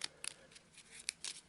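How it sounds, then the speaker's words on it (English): Quick shuffle and cut of a deck of game cards for an Arkham Horror tabletop setup: a few short, crisp riffling and snapping bursts, close and fairly quiet, with no talking. "So let's just give those a quick shuffle and a quick cut."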